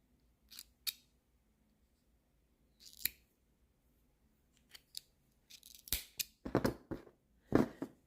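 Scissors snip a crochet yarn tail in a quiet room: a few isolated sharp clicks early on, then a quicker cluster of snips and clacks near the end, close and crisp with no talking.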